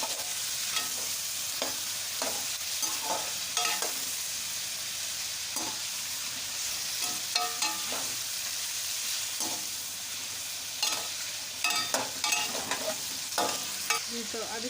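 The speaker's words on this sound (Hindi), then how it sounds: "अब चिकन हमारा थोड़ा सा भून जाएगा, थोड़ा सा कलर चेंज हो जाएगा" Chicken pieces frying in a karahi give off a loud, continuous sizzle and hiss, broken by repeated scraping and clattering strokes of a spoon stirring the pan, close up and without talk.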